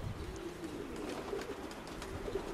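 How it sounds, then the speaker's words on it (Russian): A pigeon coos softly nearby in a low, repeated warble, with faint rustling and background ambience, no talk. "вот как голубь садится"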